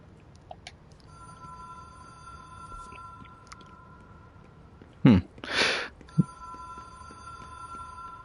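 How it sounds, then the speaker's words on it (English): A telephone rings inside the video game Control, a steady electronic trill repeating in short bursts from a moderate distance over a quiet ambient hum. A couple of brief louder thumps and rustles interrupt midway. "Is anyone hearing like a phone ringing?"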